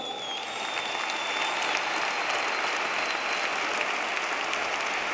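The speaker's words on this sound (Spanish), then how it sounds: "Un aplauso" Loud, dense crowd applause fills a packed arena at a Vistalegre political rally, holding steady and unbroken for the whole stretch with no voice rising above it.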